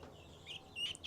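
Baby guinea fowl keets, striped chicks kept on a farm in Maine, giving a few thin high peeps close by in a short burst with no talking.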